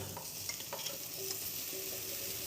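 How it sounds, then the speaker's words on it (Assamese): Soya chunks being stirred and fried in a pan, a faint continuous sizzle with soft spoon scrapes and stirring noises, no talk. "এতিয়া মই তাত চয়াবিনখিনি দি পেলাই ভালদৰে অকণমান লাৰি পেলাই ভালদৰে মিহলি কৰি ল'ম"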